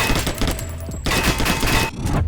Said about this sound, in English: you will find a lot of machine guns, shotguns, revolvers, and much more